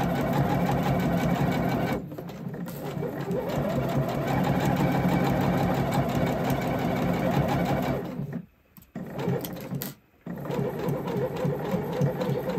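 A sewing machine stitches fabric bunting and backstitches at the end, a loud steady motor whir with two short pauses where it stops and restarts, no talking.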